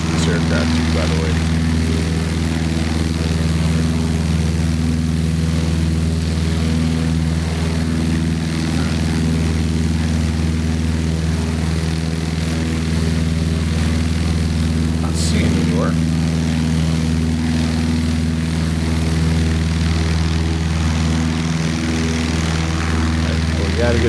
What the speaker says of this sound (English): Love the sounds of this aircraft, too, by the way.